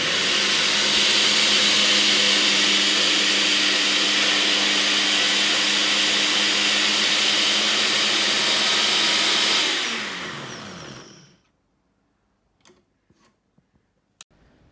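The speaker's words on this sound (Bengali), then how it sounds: "এখন আমরা এটাকে ব্লেন্ড করে নিব।" An electric blender grinds roasted panch phoron and mustard seed into powder, running as a loud, steady whir for about ten seconds before winding down into silence, followed by a few faint clicks.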